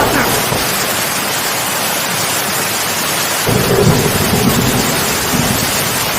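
Thunderstorm with heavy, steady rain, used as a story sound effect, with a low rumble of thunder swelling midway and continuing under the downpour.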